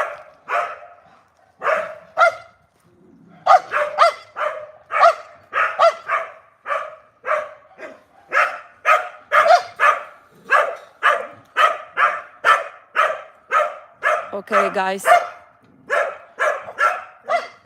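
Dogs bark repeatedly in loud, rapid bursts, several animals overlapping nearby, with a brief high whimpering whine and a few words spoken early on.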